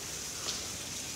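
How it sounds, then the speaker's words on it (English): Rain falls steadily outdoors in chilly weather, a continuous even hiss of drops with no breaks or voices across the short stretch. "if you could hear the rain"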